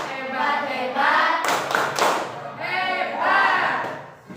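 A class claps for a student. The bursts of applause come twice, close and loud, and speech runs between them.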